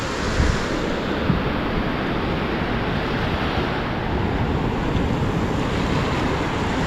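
Surf washes steadily at Sunset Beach as seashells are rinsed in the water, a loud, close, continuous roar of waves mixed with wind buffeting the microphone.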